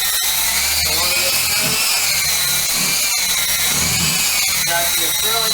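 A power sander grinds down the slick acrylic finish of a shower pan, whining steadily and loudly throughout with a few brief dips. A voice talks faintly underneath.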